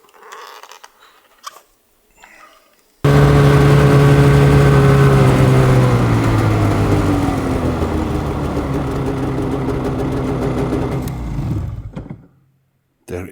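A car creeps along slowly through the snowy Arctic, its engine droning steadily and loud for about ten seconds after a sudden start, with a low hum and faint creaks before cutting off.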